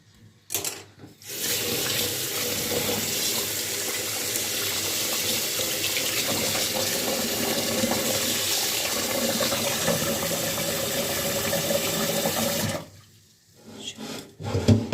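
Cold tap water pours steadily over freshly boiled new potatoes in a kitchen sink, a loud continuous splashing rush lasting about twelve seconds between brief handling noises.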